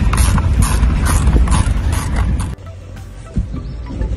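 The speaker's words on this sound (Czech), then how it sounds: "A teďkom zde kolem obvodu povolíme všechny šrouby." Mechanical clicking and ratcheting as screws are loosened around the housing of a filtration pump, close and fairly loud, with rapid repeated clicks that drop to a quieter rumble partway through.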